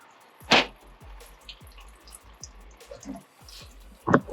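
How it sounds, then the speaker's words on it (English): Transmission fluid from a 4L80E gearbox drains into a bucket in a driveway, a series of soft rhythmic drips and splashes about every half second, with a couple of louder splatters near the start and end. "You would think there'd be a better way to drain transmission."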